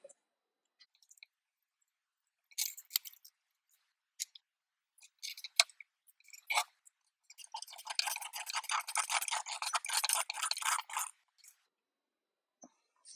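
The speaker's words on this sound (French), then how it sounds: "Et on la visse avec une vis KM." A small screw is driven into the steering rack of a 1/8-scale Eaglemoss Ecto-1 Ghostbusters model car, heard as scattered faint clicks followed by a few seconds of dense, rapid ratcheting scratches, all close and quiet.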